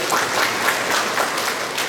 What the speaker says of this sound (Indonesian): Tepuk tangan dulu buat Pak Rektor.